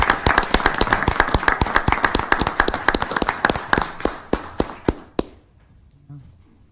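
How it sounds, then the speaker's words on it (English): A small audience claps for a police officer receiving a mayor's award of excellence: quick, distinct hand claps, close and crisp, gradually thinning out and stopping, followed by a quiet room with a faint murmur. "Let's give Officer DeGeorge just one more round of applause for her good work"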